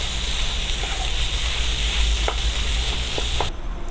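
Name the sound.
stirring and frying potato filling mixture in a pan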